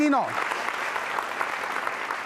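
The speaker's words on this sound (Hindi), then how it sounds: "तालियां जोरों से बजाइए" Audience applause for quiz participants at a Holi quiz show at MJRP University, a dense steady patter of clapping throughout after a brief voice at the start.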